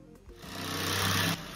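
A power saw whines steadily through wood during a small kitchen renovation, a loud continuous mechanical drone that swells and holds before cutting off near the end.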